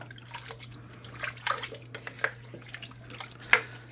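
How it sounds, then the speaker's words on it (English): A cup of water is poured into a crockpot of hamburger soup, giving soft splashing and trickling with a few brighter drips, quiet and close, over a steady low hum. "I'm going to add another cup of water."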